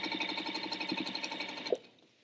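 Sewing machine stitching a border strip of fabric onto a quilt top, a fast steady needle rhythm running close and alone, then stopping with a small clunk before fading to quiet.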